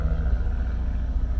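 Low, heavy engine rumble of a passing Honda car droning close by, a steady motor sound with no talking.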